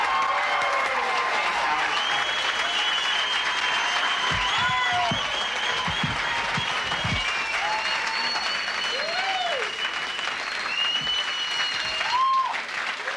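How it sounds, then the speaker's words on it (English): Sustained applause from a comedy club audience welcoming comedian Howard Buzzgang onstage, steady and full for the whole stretch, with some cheering and scattered voices rising through it. "put your hands together and then apart and then together and then apart and together and kind of get kind of a clapping noise going for my friend Howard Buzzgang"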